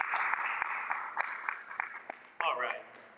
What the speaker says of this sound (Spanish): Voy a tener un fuerte aplauso al Señor,